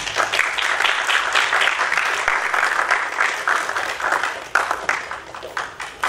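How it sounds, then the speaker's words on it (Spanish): Warm applause from the audience at a seminar in Mexico, many hands clapping in a continuous, fairly loud wash that keeps going for several seconds with slight swells and dips. "un generoso aplauso."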